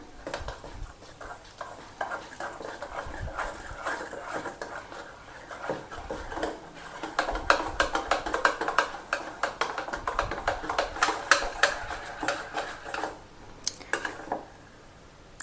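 Nylon khaman batter being whisked in a bowl, a steady run of wet stirring and sloshing with quick utensil clicks against the sides, growing busier and louder midway before easing off at the end.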